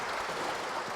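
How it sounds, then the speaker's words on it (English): Audience applause in a concert hall after a classical orchestral performance, a brief, dense, steady patter of many hands clapping at moderate level. "An applause for Jiří Bělohlávek."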